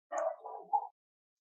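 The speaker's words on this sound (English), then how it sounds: "sorry if you hear my dog in the background, he's barking at something" A dog barks a few short times in the background, faint and distant, a quick cluster of yips within about a second, otherwise quiet.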